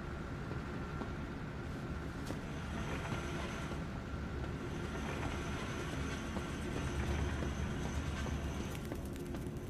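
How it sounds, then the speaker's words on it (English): A train in the zoo video game Zoochosis rumbles steadily throughout, loud and continuous with faint clattering, and no voices. "A train? Trolleys?"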